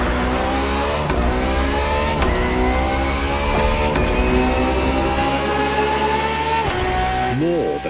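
A Ferrari FXXK track-only racing car engine screams through rising gear pulls, each climb cut by a sharp upshift, then drops to a downshift burble at the end. Loud, close and continuous, with a voice talking over it.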